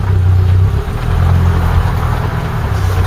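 A Mk3 Ford Cortina engine hums steadily and loudly up close as the car backs up in reverse, a continuous low drone with a slight dip partway through.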